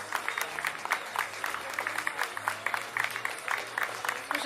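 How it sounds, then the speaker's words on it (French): Audience applause at a stage contest at an anime convention, a steady patter of many hands clapping fairly faintly throughout, with a voice talking at low level underneath. "Et on peut les applaudir applaudir quand même."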